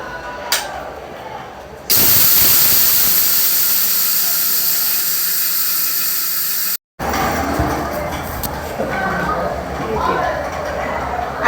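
An electric wet grinder grinding raw rice and urad dal, a steady loud hissing whir that runs for several seconds, cuts out briefly, then resumes with a rougher, grittier churn.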